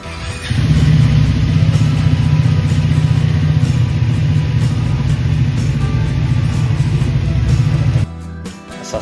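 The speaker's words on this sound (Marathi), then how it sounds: "आता तुम्हाला मी गाडीचा आवाज ऐकवतो, ऐका किती छान आवाज आहे" Triumph Speed 400 motorcycle engine idling steadily and loud up close, a continuous low throbbing rumble that runs for about eight seconds before cutting off abruptly.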